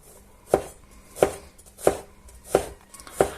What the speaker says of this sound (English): chopping these 2 pieces of garlic clove.